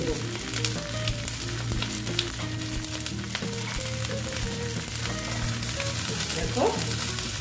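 Food frying in a small amount of oil in a home kitchen pan, a steady close sizzle with crackles and occasional stirring scrapes, continuous throughout with no talking.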